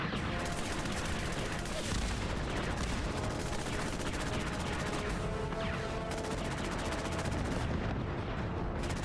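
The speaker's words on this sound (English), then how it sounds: "Oh crap, that's artillery." Artillery fire in the Fallout 4 video game, a dense, continuous barrage of booming impacts and crackling blasts that stays loud and steady throughout with no pauses.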